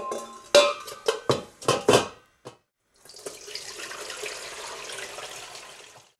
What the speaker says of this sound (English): Pour from the pot into a colander with a bowl.